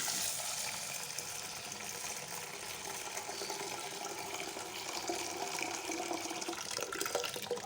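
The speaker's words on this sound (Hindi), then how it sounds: "3-4 पानी में वॉश करके तो फिर इसको भिगो के रख दूँगी।" Tap water running steadily into a vessel while lentils are washed before soaking, a continuous close splashing flow at moderate level with no speech.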